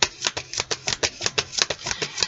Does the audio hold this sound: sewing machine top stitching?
no